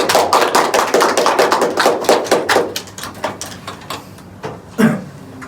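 A small group in an Indonesian university group-counseling session claps hands together, a quick run of sharp rhythmic claps that thins out and fades into a few scattered last claps.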